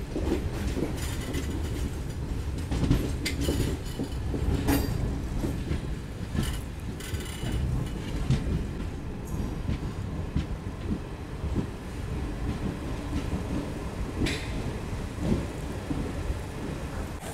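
Garib Rath Express train runs on rails toward Kochuveli, a continuous rumbling roar with repeated sharp clacks and thumps from the wheels and coaches, steady throughout with no voices.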